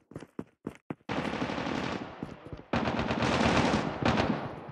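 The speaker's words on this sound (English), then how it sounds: "Be advised, hostile sentry gun spotted." A sentry gun in Call of Duty Mobile opens up after a few single cracks, pouring out long, loud, sustained automatic bursts with a brief pause between two extended streams of fire.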